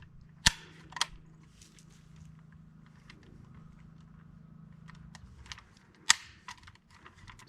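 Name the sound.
PSA AK-74 rifle firing 5.45 Red Army Standard ammo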